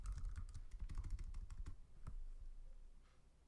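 Keystrokes on a computer keyboard, a quick run of close clicking taps for about two seconds, then a lone tap and quieter room hiss.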